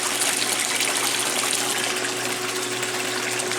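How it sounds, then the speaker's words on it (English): A 1996 Maytag Dependable Care Plus washing machine on a permanent press cycle drains its water with a loud, steady rushing whoosh and pump hum that continues unbroken throughout. "As you can see, it's draining out the water there."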